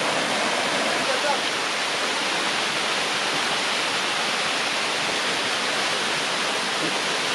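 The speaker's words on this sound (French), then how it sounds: "Le ruissellement des eaux sur les flancs des roches a créé une piscine naturelle fonctionnelle." Water pours over rock faces at Dindéfélo waterfall, a steady, dense broadband roar that holds at the same close, loud level throughout, with no breaks and no voices.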